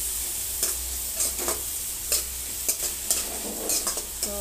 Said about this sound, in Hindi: 2 मिनट के लिए इसे फ्राई कर रही हूँ।